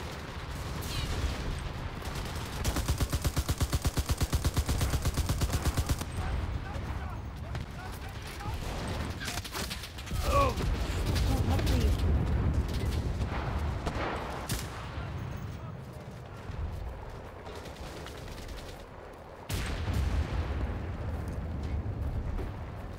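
Dense gunfire and heavy explosive blasts from mortar fire in the World War II shooter game Enlisted, with rapid bursts and booming impacts layered over continuous battle noise.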